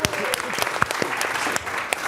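An audience breaks into applause at a live showdown event, a brief burst of dense, close clapping with a few sharper individual claps, lasting about two seconds.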